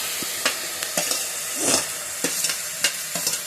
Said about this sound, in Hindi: तापर आमे कैप्सिकम पकेइबा